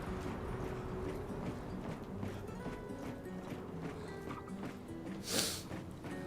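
Horse hooves clip-clop steadily in the video game Clair Obscur Expedition 33, a fairly faint rhythmic walking beat under a dense bed of game music and ambience, with one brief bright burst near the end.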